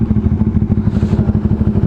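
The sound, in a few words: big bike motorcycle passing in traffic on Cavitex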